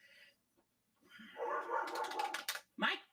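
Dogs in a living room whimper and bark in a faint, close burst of yelps and whines, with short quiet gaps between the noises.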